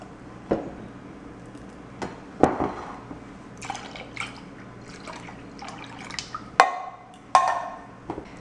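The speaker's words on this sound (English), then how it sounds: "this is why I'm going to put the half and half milk right here." Half and half milk being poured over a tres leches cake, heard as intermittent drips and soft liquid splashes spread across the clip, fairly quiet and close, with no talking.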